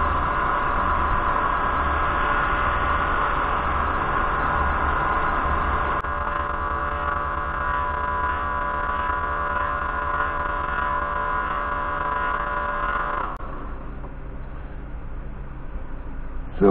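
A wood lathe turning a pen blank at 2,100 rpm while hard microcrystalline wax is applied, a steady loud motor whir and hum throughout, changing slightly in tone midway and easing near the end, with no talk.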